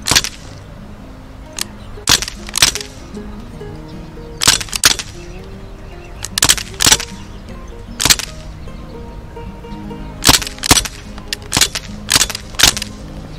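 A Crosman DPMS Panther Arms SBR air rifle fires in rapid bursts of two to four sharp, loud cracks, each group separated by short pauses, repeated many times outdoors.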